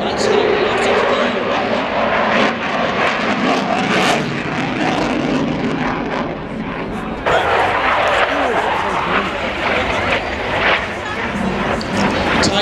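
Eurofighter Typhoon jet flying at a Red Arrows air display in Ayr, a loud continuous broadband engine roar that surges and holds throughout, with a crowd and voices talking underneath.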